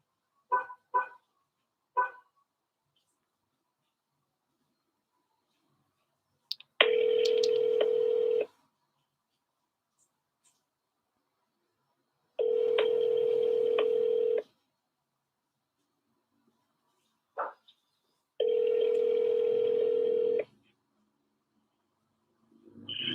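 A phone dialing out to call a buyer: a few quick keypad tones, then three long, loud ringback tones separated by silences, close and alone with no talk.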